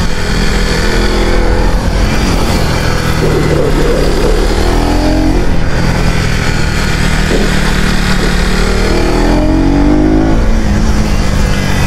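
A KTM Duke 250 or TVS RTR 310 motorcycle accelerating on a race track, its engine revving hard and climbing through gears in repeated rising sweeps, loud and close throughout.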